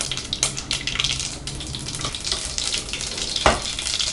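Urad dal sputters and crackles in hot sesame oil as a tempering fries, a busy close sizzle with sharp pops and a few louder spits.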